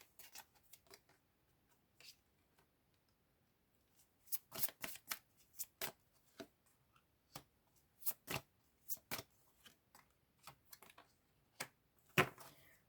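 Tarot cards are shuffled in quick bursts of crisp riffling and slapping, sparse at first and then busier, loud and close in an otherwise quiet room.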